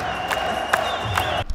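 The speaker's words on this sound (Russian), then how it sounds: "С каждым новым боем на трибунах все громче и громче." A packed crowd in the stands at a Brave league MMA tournament in Russia roars and cheers continuously, a dense wash of voices with a few sharper shouts rising out of it.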